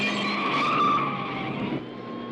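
A car skids with screeching tires during a chase in Rambo: First Blood, a loud engine roar and squeal sweeping over about two seconds and easing off near the end.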